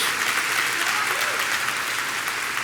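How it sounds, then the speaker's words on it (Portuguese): A church congregation claps in praise to the Lord during a sermon, a dense, even burst of applause sustained throughout and not overlaid by speech. "Pode dar uma salva de palmas ao Senhor"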